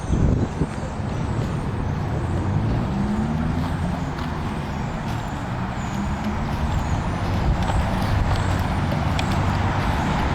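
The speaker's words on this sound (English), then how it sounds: "I think it's a Department of Aging vehicle" A Department of Aging road vehicle passes by, with a steady rumbling engine and road noise throughout and a hissing, squealing air brake rising partway through, moderately loud and with no talking.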